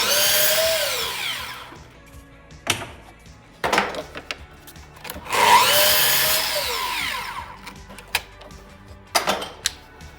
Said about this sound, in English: now I'm at the table saw cutting these to 2 inches wide. Then the miter saw to cut these to 10 inches long.